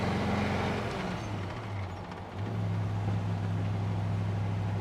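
A 1949 Ford F1 pickup driving, its engine droning steadily with a low hum that dips briefly and recovers, a loose gear shifter rattling faintly within the cabin noise.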